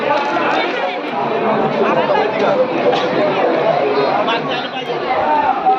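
Devotees crowd the Jejuri temple, a steady, close babble of many overlapping voices chattering together, loud and unbroken throughout.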